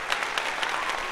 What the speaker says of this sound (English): Let's give you a real applause.